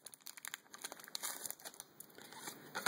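Foil wrapper of a Pokémon card booster pack, Emerging Challenges, crinkles and tears in quick irregular bursts, close and quiet with no talk.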